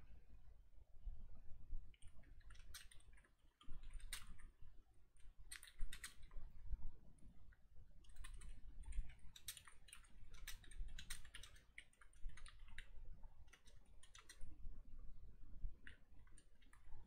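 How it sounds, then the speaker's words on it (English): Steady typing on a computer keyboard, quick irregular clicks and clatters continuing throughout at a moderate, close level, no voices. "A lot of typing in my files,"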